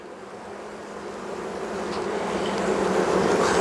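Honeybees around an open backyard hive in winter make a continuous, dense buzzing that swells gradually louder, with occasional closer passes.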